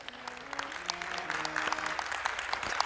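A crowd at a Kalki katha religious gathering claps steadily, thick rapid applause that swells slightly toward the end, with low tonal sounds and faint voices mixed underneath.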